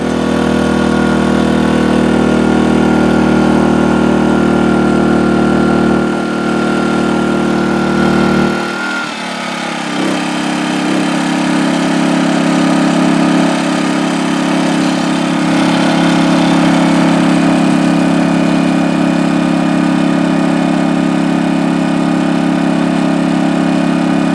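Portable 1600-watt generator running under full load, a steady loud engine drone with strong harmonic hum; the pitch dips and shifts briefly around mid-clip as the load bites, then settles into an even, continuous roar with no talking.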